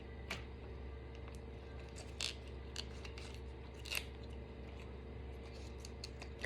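Knife cutting through celery stalks, a series of crisp crunchy chops spaced irregularly over a low steady background hum, faint and close.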